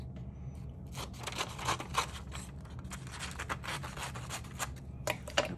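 Scissors snip through card in quiet, close, irregular cuts, with small crunches and scrapes as the paper is trimmed and no talking.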